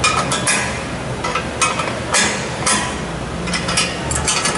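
Metal wrenches tighten bolts and nuts while a patch panel rack is assembled, producing scattered metallic clanks and knocks over a steady background hiss, with no voices.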